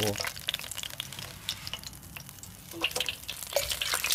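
Shrimp heads deep-frying in hot oil on a stove give off a dense, crackling sizzle with scattered sharp pops, close and fairly quiet, steady throughout with no talking.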